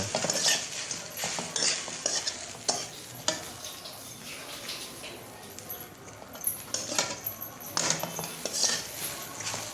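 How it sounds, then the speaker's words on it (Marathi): Sabudana khichdi with crushed peanuts being sautéed in a pan, a spoon stirring and scraping against the metal with soft sizzling, close and busy with repeated bursts of clatter throughout. "शेंगदाणा कूट पण टाकायचं आणि परतून घ्यायचं"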